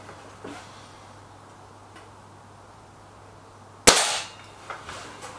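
A .22 air rifle fires a single JSB pellet with one sharp, close crack and a short ringing decay. The shot breaks an otherwise quiet stretch that has only a few faint ticks.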